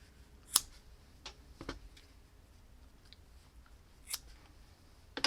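Scissors snipping yarn ends on a crocheted men's hat, a few sharp close clicks spaced over several seconds in a quiet room.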